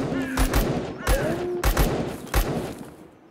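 Rapid bursts of gunfire from the ZERO Sievert survival shooter game, several sharp volleys spaced through the clip at moderate distance, with a voice talking underneath.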